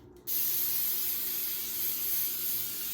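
Cooking spray from an aerosol can coating a bundt cake pan: one continuous, close, loud hiss that starts abruptly and holds steady for nearly three seconds, with no voices.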